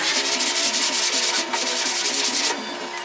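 On a 1961 Chevy Apache passenger door, 180 grit sandpaper scuffs quickly over primer in rapid, rhythmic back-and-forth rasping strokes, close and loud, easing off near the end, with no talking.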